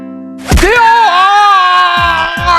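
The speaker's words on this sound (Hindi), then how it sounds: "हाँ, अब पता चल गया कि चीख भी निकलती है।" A boy lets out a loud, sustained scream after being stomped on the foot, starting with a sharp onset, holding high and strained, with brief thumping sounds underneath near the end.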